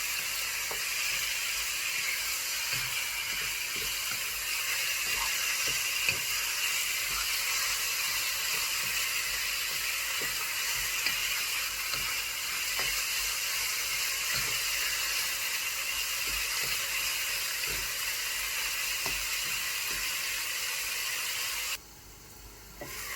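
Eggplant for fillings sizzles in hot oil in a frying pan, a steady broadband hiss with faint crackles that holds at an even level for over twenty seconds before dipping briefly near the end, no voices over it.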